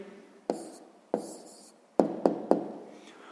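Pen writing an answer to a sixth-grade maths exercise, several short scratchy strokes and sharp taps on paper spaced irregularly, close and quiet with no voices.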